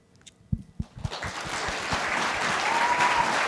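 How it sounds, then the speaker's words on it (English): An audience at the 2019 Montgomery International Film Fest award ceremony starts with a few scattered claps, then swells within a second into sustained, full applause that carries on to the end. "为他们喝彩，为他们鼓掌。"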